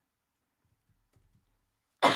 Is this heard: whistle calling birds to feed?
no